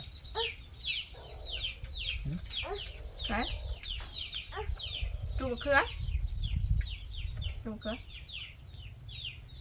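Chickens cluck and squawk repeatedly at close range, a busy flock calling in quick overlapping bursts over a low background rumble.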